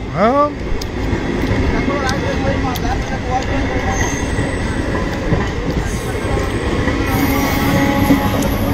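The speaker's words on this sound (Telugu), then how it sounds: "ఈ రైలు వెళ్ళిపోయిందా బాయ్?" Small passenger train passing Vemuru, a loud close rumble of rolling wagons with rhythmic wheel clatter, a squeal at the start and faint metallic screech later, people talking over it.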